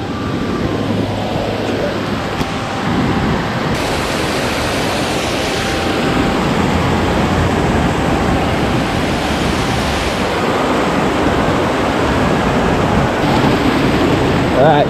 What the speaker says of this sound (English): we're gonna go around this way around the waterfall